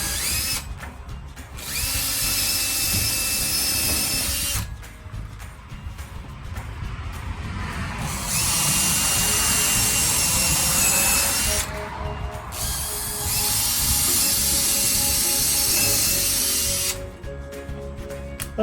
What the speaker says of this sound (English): So right now I'm going to drill a smaller hole,